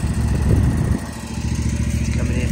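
A lawn mower engine runs steadily at close range while mowing a yard, a loud continuous rumbling drone with a slight dip in the middle.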